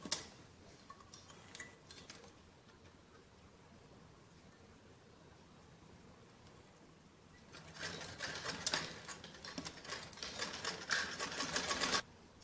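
Sewing machine stitching a seam on a jacket frock, faint and sparse at first, then a louder, steady run of rapid stitching in the second half before it stops abruptly.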